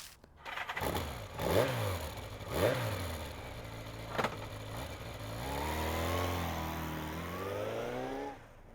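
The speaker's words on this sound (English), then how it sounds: "I rev the engine a few times because I can." In a video game, a vehicle engine revs several times in quick succession, each rev rising and falling. A longer, steadier climb in pitch follows as it accelerates, close and fairly loud with no talking.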